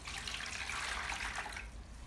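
One litre of water pouring for a homemade liquid plant fertilizer with Epsom salt, a steady, close hiss and splash running nearly two seconds, then tapering off, with no talk.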